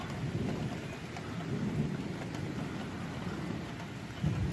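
Heavy rain pours steadily on surfaces during an intense thunderstorm, with low, rolling thunder rumbling underneath throughout and a slightly louder swell near the end; no voices.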